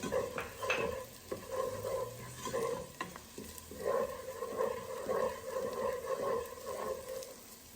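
Chopped ginger frying in a pan for restaurant-style dal makhani gives a soft, steady sizzle with light stirring scrapes, fairly quiet and close, with no voices.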